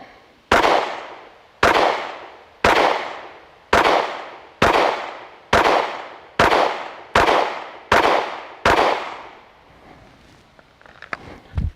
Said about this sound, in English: All right, 10 shots.